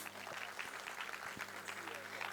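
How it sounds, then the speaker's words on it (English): An audience at a school annual concert applauds in a faint, steady patter of many hands, heard from a distance over a low background hum. "Can we have a round of applause, please?"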